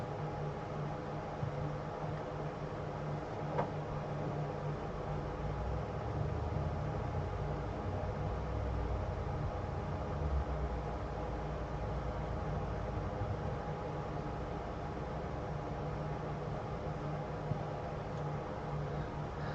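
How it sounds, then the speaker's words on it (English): A continuous, even hiss of electric cooling fans with a low hum beneath, during a car audio subwoofer install, steady and unbroken, no voices. "that hiss that y'all hear are these fans over here"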